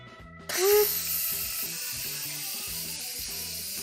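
A pressure cooker, just used for cooking rice, vents steam in a sudden loud hiss that bursts on and then holds as a steady, broad rush, with faint background music beneath.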